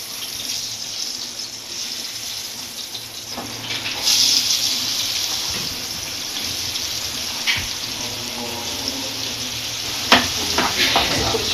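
Sizzling and bubbling from a pan of food being fried in a home kitchen, a steady hissing texture throughout with occasional clinks and stirring scrapes, no one talking.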